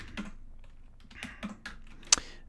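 Rapid clacking keystrokes on a loud computer keyboard, a brisk irregular run of close, crisp taps with one sharper, harder strike near the end.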